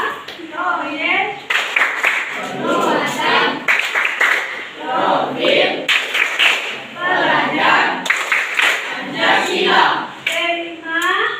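A standing group of people performing a rhythmic call-and-response clap chant, with short bursts of clapping between spoken counts and commands from a leader.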